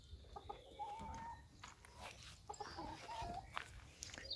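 Rescued ex-battery hens clucking in a flock at suppertime, soft repeated clucks and short chirping calls close by over a steady background, with no talk.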